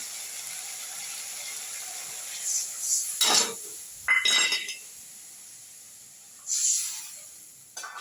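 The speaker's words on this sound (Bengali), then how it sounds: "আমি ঝোল দিয়ে দিচ্ছি" Broth poured into sizzling masala in a pan gives loud bursts of hissing and crackling, three or four separate surges over a faint steady background.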